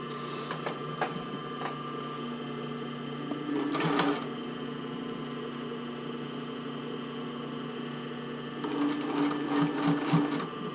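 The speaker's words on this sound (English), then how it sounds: "So I'm going to sew this at 1/4 inch seam allowance." A home sewing machine running a basting stitch along a bra band at a quarter-inch seam, a steady mechanical whir with two louder bursts of rapid stitching, heard alone with no talk.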